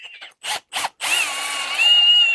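A power drill boring into a fresh log to seat a worm screw for bowl turning: a couple of short whirring bursts, then a sustained high whine that steps up in pitch, close and loud with no talk.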